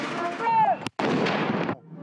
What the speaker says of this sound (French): comme les 21 coups de canon tirés aux Invalides